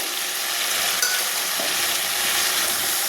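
Vegetables and tomato are stirred in a frying pan, a steady close sizzle with faint scraping and shuffling of the spatula through the food, no speech.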